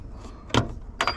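A metal snap ring comes off the door hinge pin of an old OBS Ford truck: two short, sharp metallic clicks about half a second apart, close and alone.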